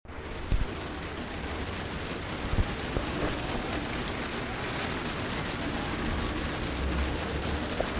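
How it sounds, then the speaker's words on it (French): Rain falls steadily at an outdoor amusement park, a constant hiss of drops with a couple of sharp knocks near the start. "il pleut quand même"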